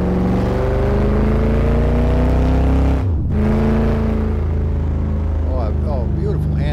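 A 440 big block Plymouth GTX engine in the Assetto Corsa racing game drones loudly at steady revs, cuts off briefly for a gear change, then pulls hard again with climbing pitch; someone speaks over the end.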